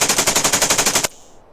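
Full-auto gunfire in the video game Black Bag, a rapid string of about eleven loud, even shots that stops abruptly and leaves a short fading tail.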